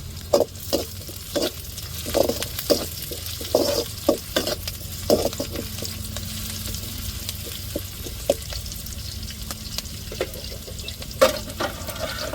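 Slit green chillies are added to a hot pan with curry leaves for a coconut milk rasam and conch meat gravy, giving a steady oily sizzle punctuated by sharp, irregular taps and stirring clatter.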